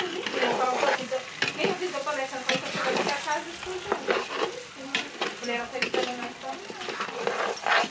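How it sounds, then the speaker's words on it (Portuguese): Rice sautéing with browned onion in a pot for arroz com suã: a busy sizzle with frequent spoon scrapes and stirring clatter, close and steady, while people talk over it. "Vou deixar o arroz refogado bem refogadinho."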